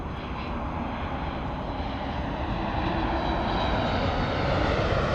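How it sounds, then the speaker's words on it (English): Boeing 737 jet engine spooling up at Los Angeles International Airport, a steady broadband roar that holds for several seconds and slowly grows louder, with no talk over it. "I hear the engine starting up on the 737"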